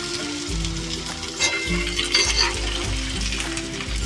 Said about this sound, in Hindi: अभी चिकन को फ्राई करेंगे।